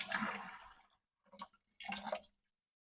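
Water trickling and splashing as it drains from pressurized water filter lines after the pressure is released, with a 10-inch string-wound filter housing on the system; a close, broadband wash in two bursts separated by a brief pause.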